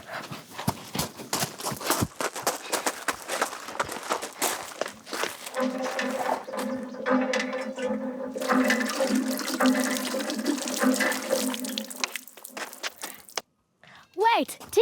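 Water drawn from a borehole pump at a community water point gushes in a steady, loud stream for several seconds, preceded by clanking pump strokes and followed by a brief voice.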